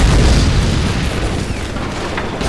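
Massed artillery, rocket and flak fire in a WWII strategy video game against Soviet forces, a dense, loud, continuous rumble of overlapping booms and bursts with no clear gaps.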